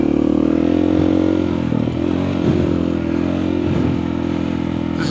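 An off-road vehicle on a dirt OHV trail at Cline Butte, its engine droning loud and steady close by with occasional clatter and scraping from the rough ground.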